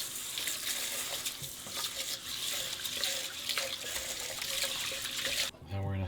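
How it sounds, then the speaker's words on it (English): Rice being washed under running tap water in a kitchen, a steady broadband splashing and trickling close by, ending with a brief clatter. "Alright, so let's wash the rice."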